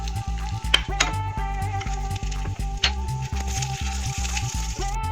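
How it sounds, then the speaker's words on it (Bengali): About a teaspoon of whole cumin, a bay leaf and two dried chillies fry in leftover fish-frying oil, a steady close sizzle under rhythmic stirring scrapes and light utensil clinks. "এবার মাছ ভাজার তেলেতেই আমি দিয়ে দেব গোটা জিরের ফোড়ন"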